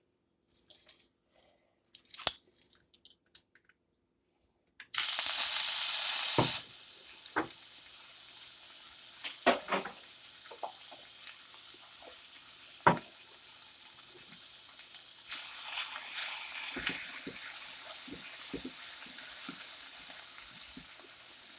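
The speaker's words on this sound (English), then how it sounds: "Okay, so we'll go ahead and put in some garlic." Garlic dropped into a hot frying pan for meatloaf gives a loud burst of sizzling that settles into a steady, quieter frying hiss with scattered crackles and pops, close and without talk.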